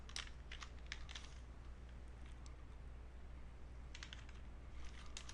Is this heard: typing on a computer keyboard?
yes